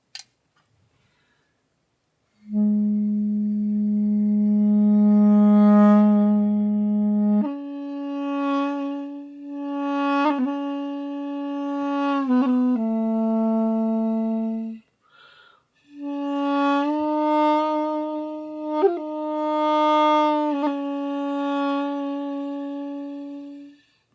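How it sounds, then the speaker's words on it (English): A duduk plays a slow, mournful melody of long sustained reedy notes with small ornamental turns and a short pause midway. "So the duduk will sound like this."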